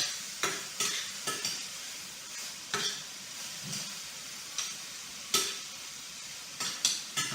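A spoon stirs vegan Alfredo sauce in a pan over low sizzling, with soft scraping strokes and a dozen or so irregular clinks against the pan, close and fairly quiet, without talk.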